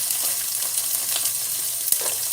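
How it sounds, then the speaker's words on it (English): Cajun corn and quinoa chowder starting to simmer in a pot over medium heat, a dense steady hiss and fine crackle with small irregular pops, close and alone. "And let that start to simmer. Over medium heat"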